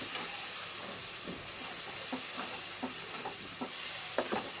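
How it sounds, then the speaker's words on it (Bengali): Butter chicken masala sizzling and frying in a pan on a low flame, a steady hiss broken by repeated soft stirring scrapes and bubbling pops, close and fairly loud. "আঁচটা কমিয়ে এটাকে কষতে থাকবো"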